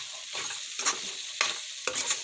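Chili powder being stirred into a curry of cluster beans in a pan, a steady close sizzle broken by three or four sharp scraping stirs of a spoon against the metal.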